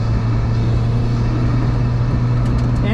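A turbocharged Mazda Miata drives off-road with a steady low engine rumble and drone, constant and fairly loud with no voices.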